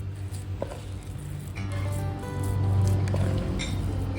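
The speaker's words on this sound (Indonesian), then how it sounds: "Lalu ditambahkan 100 ml jus bayam dan diaduk" Spinach juice poured into pempek dough and stirred, producing wet squelching and sloshing sounds up close, growing slightly louder midway, with a low steady hum behind and no talk.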